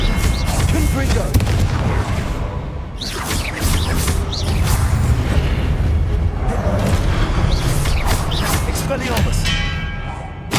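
Repeated Confringo blasting-curse explosions in Hogwarts Legacy, dense booming bursts with whooshing spell sweeps layered over a loud continuous game-combat din, with voices calling out in between.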